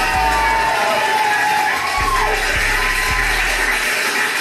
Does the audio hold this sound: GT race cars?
no